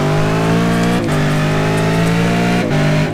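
A race car on a hot lap, loud sustained engine roar with a steady rising pitch, cut by two quick upshifts, close and continuous without any voices.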